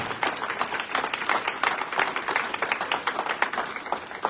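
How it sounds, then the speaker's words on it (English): A crowd claps together at a 30 and Under awards ceremony, a steady, sustained round of applause with dense overlapping hand claps throughout. "big round of applause collectively for all of those who received recognition"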